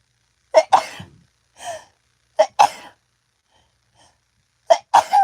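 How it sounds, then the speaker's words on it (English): Three sneezes in a row, each a sharp inhale catch followed by a loud burst, separated by quiet pauses, close up and alone. "Uh-oh, I'm going to sneeze."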